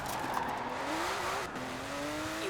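Emory Motorsport Porsche 356 RSR, a light car in Forza Horizon, drives with a steady engine note rising in pitch as it accelerates, with a brief dip and a shift before climbing again, close and continuous.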